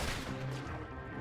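Gunfire in Red Dead Redemption 2, a brief dense burst of loud shots layered over steady game ambience, with no clear gaps between reports.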